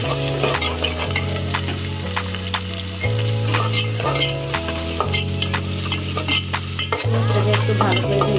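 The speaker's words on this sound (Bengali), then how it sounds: "এখন আমি এখানে পেঁয়াজ কুচিগুলো দিয়ে দিলাম।" Chopped onions sizzle and fry steadily in a hot pan for a vegetable khichuri, with regular stirring scrapes and clinks of a utensil over the continuous crackle, close and fairly loud with no talking.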